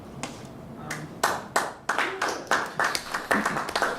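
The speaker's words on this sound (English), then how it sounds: "That deserves applause." A small audience at a programming talk clapping in short scattered bursts that build into a loose rhythm of individual claps, fairly close and sparse rather than a full roar.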